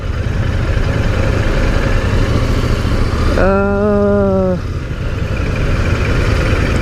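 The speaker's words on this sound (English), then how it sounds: "It's a quiet exhaust, but I like the sound of it in general." A Royal Enfield Continental GT650 motorcycle rides through Manila traffic with a steady, loud engine drone throughout. A sustained tonal horn-like note cuts in briefly midway.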